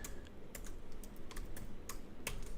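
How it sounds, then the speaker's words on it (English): Code being typed on a computer keyboard, a quick irregular run of crisp key clicks, close and fairly quiet, with no voices. "some people will type it like this"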